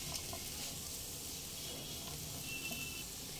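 Cashews, pistachios and dry fruits frying over a medium flame for carrot halwa, a soft, steady sizzle and hiss, quiet and continuous, with no talking.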